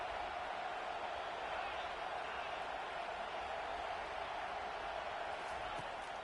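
Stadium crowd roar in the college football video game NCAA 25, building on third down as fans back the defense; a steady, dense wash of crowd noise at constant loudness, with no voices heard over it.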